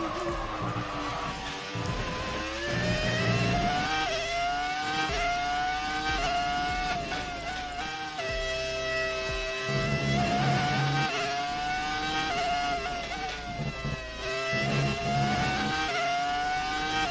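A Ferrari F2004 Formula 1 car's engine screams at high revs, rising and falling through repeated upshifts and throttle lifts, loud and continuous throughout.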